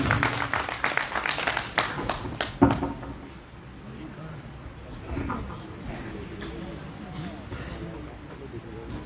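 Audience at a mushaira poetry gathering in a college hall, clapping in a brief scattered burst that quickly fades into room murmur and a speaking voice.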